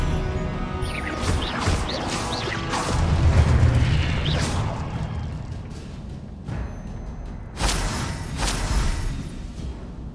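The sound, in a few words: Confringo blasting spell explosions in the video game Hogwarts Legacy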